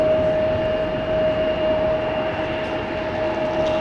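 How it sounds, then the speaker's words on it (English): A Saudia airliner takes off in rain at Amsterdam Schiphol Airport, a steady, loud engine roar holding evenly throughout with a high whine over a broad rumble, no voices. "Saudia Queen taking off to Jeddah."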